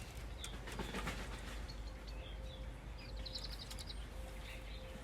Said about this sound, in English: The pigeons are really fighting up there.